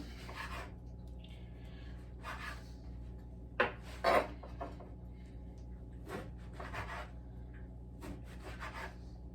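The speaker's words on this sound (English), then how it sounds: "So I'm just going to cut cubes out of this old bread." Knife sawing cubes from an old loaf of partially frozen bread, making faint, close, rasping scrapes in uneven strokes, with a couple of sharper crunches midway.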